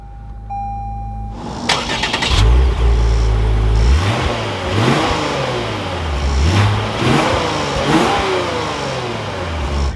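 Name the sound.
2023 Lexus RC350 F Sport engine starting up and revving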